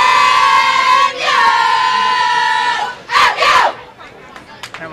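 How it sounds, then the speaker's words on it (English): The Midland college bowling team shouts a loud group cheer in unison at a 2013 NAIA Invitational bowling event, with sustained chanted calls followed by a burst of yelling and scattered crowd noise. "That was Midland doing their cheer."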